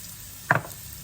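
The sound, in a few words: peppers and salt frying in a pan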